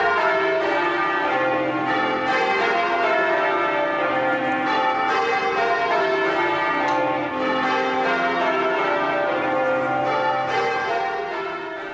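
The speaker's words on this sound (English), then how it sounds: "London's church bells have called people to worship for hundreds of years." Church bells in London ring continuously and loudly, with overlapping peals sustaining a dense, steady wash of tolling throughout.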